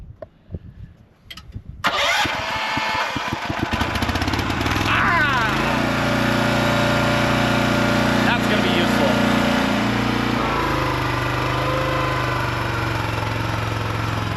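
A small gasoline engine on a ranch robot cranks with rapid clatter, catches after about two seconds and runs at a loud, steady buzzing idle that shifts pitch slightly. A voice speaks briefly before it starts.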